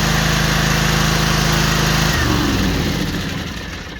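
A John Deere X350 lawn tractor engine runs loud and close after a spring tune-up, a steady buzzing drone that shifts pitch about halfway through and then eases slightly quieter, with no voices.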